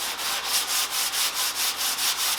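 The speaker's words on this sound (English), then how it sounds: "I've got 80 grit sandpaper, and I've rounded the edges just a tick" Steady rhythmic strokes of 80 grit sandpaper rubbing over a wooden bow with rounded edges, a close, even back-and-forth scratching repeating about every quarter second with no talk.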